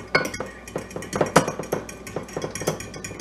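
A utensil whisking French toast egg mixture in a bowl, giving irregular clinking and tapping strokes against the bowl, fairly close and moderately loud, with no talking.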